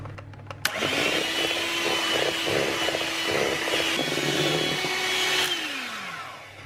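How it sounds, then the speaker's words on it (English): An electric hand whisk beats egg whites into meringue: a sharp click, then a loud, steady motor whine with a pitch that dips partway through and rattles as the beaters hit the bowl, before winding down. "So I'm going to use electric hand whisk and whisk until we've got lovely meringue"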